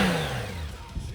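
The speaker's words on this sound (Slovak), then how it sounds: "Krásne, motor ide krásne." A Honda Goldwing trike engine idles smoothly nearby, a steady low hum with a brief falling pitch at the start and no voices.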